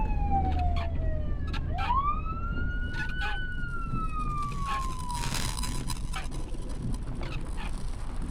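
A police car siren wails nearby, its pitch sweeping up and down in long continuous glides over a steady rumble of traffic or engine noise, loud and alone with no talk.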